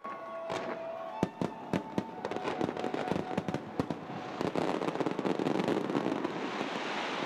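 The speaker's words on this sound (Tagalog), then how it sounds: "Pero hindi lang grand fireworks ang sumalubong sa Chinese New Year." Chinese New Year fireworks burst and crackle repeatedly over Jones Bridge, sharp bangs at first giving way to a dense, continuous crackling barrage, with no talking.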